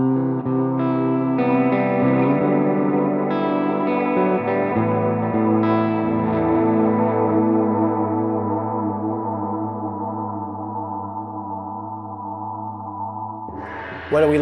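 Electric guitar through a Mooer Prime M2 multi-effects pedal on its Galaxy preset: sustained, shimmering chords and picked notes washed in chorus and echo, slowly fading over long swelling tails, loud and close, with a sudden burst at the very end.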